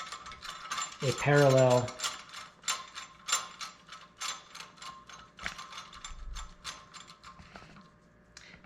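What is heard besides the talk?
ratchet tightening bolts on a parallel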